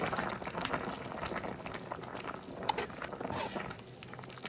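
Chicken and bok choy clear soup boils in a pot, a faint, steady bubbling and gentle patter with occasional small pops.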